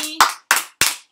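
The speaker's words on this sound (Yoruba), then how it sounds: "Ẹ pàtẹ́wọ́ fúnra yín." Three sharp, loud claps from children in a Yoruba lesson, evenly spaced with short gaps between them, following a brief tone at the start.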